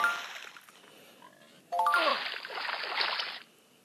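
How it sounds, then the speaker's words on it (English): In the game SurvivalCraft a character plunges into water: a bright ringing ding and a splashy rush follow a quieter stretch, the watery wash lasting under two seconds before cutting off. "now we're going to take a dive in the water"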